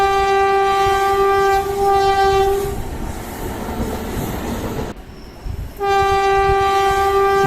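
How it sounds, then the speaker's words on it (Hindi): An amusement park ride train pulls in, its horn sounding in loud sustained blasts at the start and again near the end, with rumbling wheels and brief squeals between. "ये आ गई हमारी ट्रेन"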